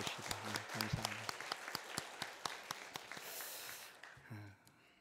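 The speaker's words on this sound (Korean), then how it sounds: "우리 성가대와 또 의정의 학생을 위해서 다시 한번 격려의 박수를 주시다" Church congregation applauding a choir and students during a Sunday morning service, a burst of clapping from many hands that fades out toward the end with a brief murmur.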